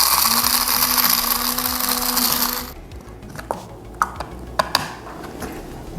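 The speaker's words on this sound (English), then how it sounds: "There's nothing like blending fresh spices, man." A blender grinds allspice, cloves and peppercorns with a loud, dense whir for under three seconds, then stops, leaving a few light clinks and taps as the jar is handled.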